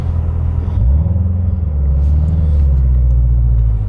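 A C7 Corvette Z06 pulls away with a loud, close, deep engine rumble that holds steady, with the pitch climbing briefly as the car moves off, and no voices over it.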